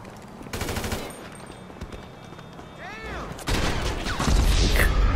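Gunfire in the video game GTA 5 comes in several rapid automatic bursts, loud and close. A long volley opens, a short gap follows, then heavier sustained shooting builds toward the end.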